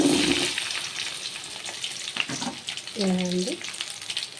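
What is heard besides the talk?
okra (lady's finger) sautéing in a pan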